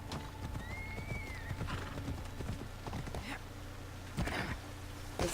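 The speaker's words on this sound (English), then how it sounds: "Giddy up." Phobos, a horse in the video game Assassin's Creed Odyssey, clip-clops at a gallop in a steady rhythmic hoofbeat, with a whinny and faint background game sounds.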